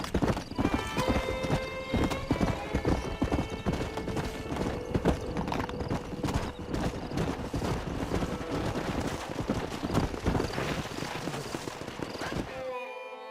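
Horses gallop in Red Dead Redemption, a steady drumming of hooves with occasional whinnies, loud and close for most of the stretch before cutting off abruptly near the end.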